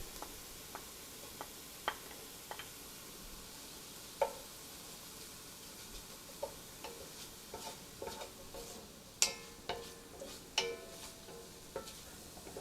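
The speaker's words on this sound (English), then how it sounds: "We're going to let the shallots and the garlic cook for about 3 to 5 minutes." Shallots and garlic sautéing in a pan, a faint steady sizzle with soft scattered clicks and taps of a utensil stirring, quiet and close.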